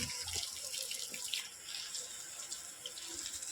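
Water gushing from a burst pipe, rushing and splashing steadily in a continuous flow with no voices.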